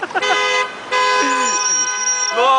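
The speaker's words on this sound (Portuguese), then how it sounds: "os carros tá tudo buzinando pra ele" Car horns honk in street traffic as someone crosses between the cars, a mix of overlapping toots and sustained blares held for long stretches, loud and close, with brief gaps between them.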